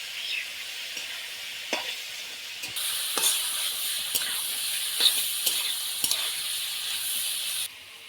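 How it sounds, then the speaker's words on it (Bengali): Beef tripe stir-fried in oil with turmeric and ground spice paste: a loud, steady sizzle swells up partway through, broken by sharp scraping knocks of a spoon against the pan. "বুড়িটা আমি ভালোভাবে ভাজা নেবো, নাড়াচাড়া করে একটু আমি বাটা মশলা দিয়ে দিন"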